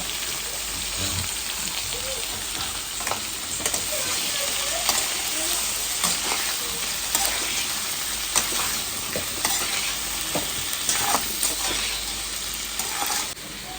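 Bean seeds frying in a pan give a steady hiss and sizzle, with scraping and stirring clatter throughout and faint voices in the background.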